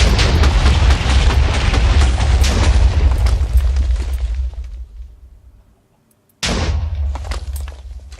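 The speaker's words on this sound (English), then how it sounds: "I have no idea why that's exploding" A loud explosion in the Minecraft FTB Sky Odyssey modpack, a sustained roaring blast that fades out over several seconds, followed after a brief silence by a second sudden burst of rumbling noise.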